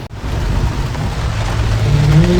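Steady rain falling at a Kerala viewpoint, a dense continuous hiss of drops with a low rumbling undertone, fairly loud and unbroken, with no voices.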